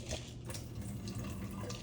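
Water poured out of an overfull plant cup: a short, continuous trickle and splash of liquid, close and moderately loud, with no talking.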